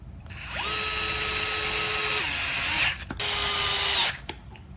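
A power screwdriver drives screws into the chassis of a Traxxas 4-TEC RC car, whirring steadily with pitch shifts for about two seconds, then a short stop and a second shorter burst, close and loud with no talking.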